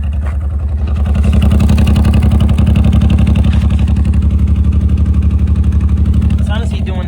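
A Suzuki Mighty Boy engine idles on its own, a loud, close, steady rhythmic chugging that holds throughout, with a slight rise in level after the first second.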